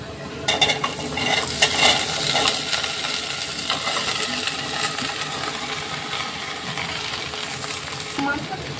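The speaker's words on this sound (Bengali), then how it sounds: "পেঁয়াজ ভাজা হয়ে গেছে, এবার দিয়ে দেবো ভিন্ডি" Okra is tipped into a hot pot of fried onions and oil, starting with a few sharp clattering knocks. Soft sizzling and the scrape of stirring with a spoon follow, and a voice is faintly present.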